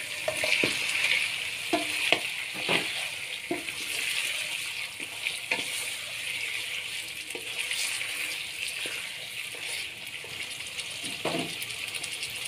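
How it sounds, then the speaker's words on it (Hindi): Chicken fries in a pan with whole garam masala, a steady close sizzle broken by frequent scraping stirs and short clatters of the spoon, with no voices. "अब इस चिकन को हम लाइट ब्राउन होने तक फ्राई करेंगे।"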